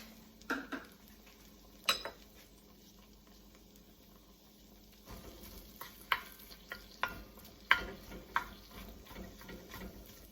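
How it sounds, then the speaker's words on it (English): Impossible burger plant-based meat breaking up and browning in a pan over medium heat, faint sizzling under sharp scrapes and taps of a utensil stirring against the pan, close and quiet. "This Impossible burger is browning just like real hamburger meat."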